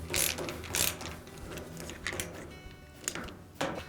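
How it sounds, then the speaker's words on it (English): Screws are snugged down on the siphon break elbow of a Maytag washer, producing faint, close ratcheting clicks and small mechanical rasps in irregular bursts. "And then just snug the screws up."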